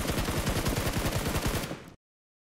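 Rapid automatic gunfire in the video game BGMI, a loud, close burst of evenly spaced shots that runs continuously and then cuts off abruptly into silence.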